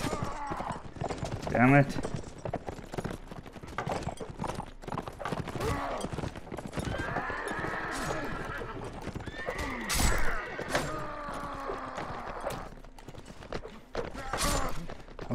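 Horse whinnies and hoofbeat clip-clops from the video game Mount & Blade: Warband, a sharp neigh early on amid steady galloping and clashing battle noise, with a player talking over it.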